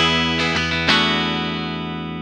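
Electric guitar through a Radial JDX Direct Drive pedal in combo mode with the bright switch on, a distorted chord strummed a few times then left ringing and slowly decaying, loud and alone.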